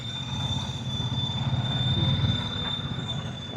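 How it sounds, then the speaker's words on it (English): A motorcycle brake on a ride in Yelagiri gives a thin, sustained high-pitched squeal that holds steady for several seconds over a low rumble of engine and road noise. No one speaks. "Whose brake is that?"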